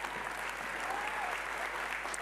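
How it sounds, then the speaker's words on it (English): Audience at a peace and justice talk in The Hague gives warm applause for volunteers, continuous moderate clapping heard throughout at a fairly quiet level. "A warm applause, please,"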